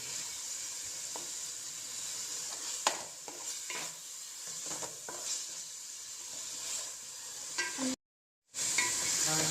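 Turmeric is stirred into a bottle gourd and tamarind curry in a pan. The stirring scrapes softly and steadily over a quiet, constant sizzle, with one sudden brief gap near the end.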